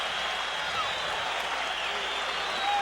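A boxing arena crowd reacts around the ring with a steady, distant roar of cheering and scattered applause. A commentator's voice may sit under it.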